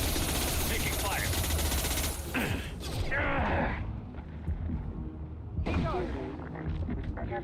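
Rapid bursts of gunfire from Mass Effect 2 combat rattle loud and dense for about two seconds, then drop to scattered shots and game effects before another burst near the end, with voices over the action.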